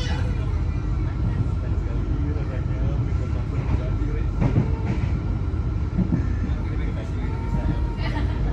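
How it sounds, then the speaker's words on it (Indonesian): The Jaka Tingkir economy-class train runs on the rails toward Cikarang station, heard from inside the carriage as a constant heavy rumble with faint rattling throughout. "Kereta api Jaka-Tingkir yang saya naiki telah tiba di stasiun Cikarang."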